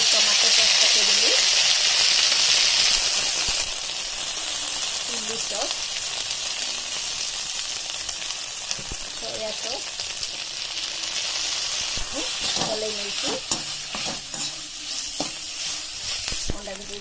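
Egg chili frying in a pan with chili and tomato sauce, a steady loud sizzle and hiss under repeated scraping stirs, with a voice talking faintly in the background.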